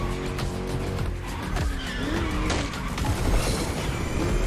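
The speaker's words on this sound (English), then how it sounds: "Just listen to that V8 like a chonky, down-tuned guitar." V8 car in the racing video game The Crew Motorfest, a loud, steady roar of the engine with tire squeal and rushing road noise throughout, no voices.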